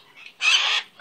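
A pet bird gives a short, loud, harsh squawk lasting under half a second, close to the microphone, preceded by a faint softer chirp, with no talking.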